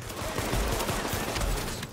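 Dense, rapid gunfire crackles continuously during a survival PvP match in The Division, a brief close volley of overlapping shots with no pauses.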